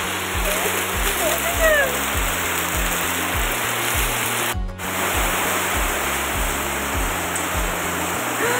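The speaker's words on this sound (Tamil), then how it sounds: "இந்த மழை பெய்கிற சவுண்டு" Heavy monsoon rain pours down in Munnar as a loud, continuous rushing hiss, with a rhythmic low beat running steadily underneath.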